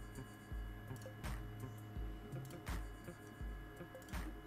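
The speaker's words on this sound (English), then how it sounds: "Sounds like my printer stopped." A printer runs nearby with a rhythmic mechanical cycle: repeated thumps and clicks about every second and a half over a steady motor hum, moderately loud and with no talk.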